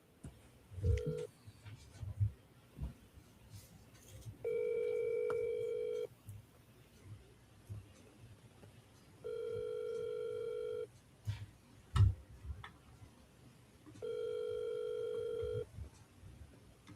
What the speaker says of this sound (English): Let's call the police chief. Got her cell phone.